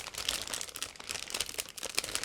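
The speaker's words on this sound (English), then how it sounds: "all the parts, they are supplied in a resealable plastic bag, so it should be quite easy and quick to open" Resealable plastic bag holding model kit parts being opened and handled, a close run of irregular soft crinkles and rustles with small crisp peaks, heard alone at low level.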